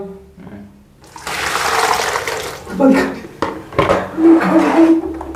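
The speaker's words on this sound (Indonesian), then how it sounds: "Kita buang lagi airnya bang." Water is poured out of a container in bursts, splashing and gushing close by with pauses between pours, while people talk over it.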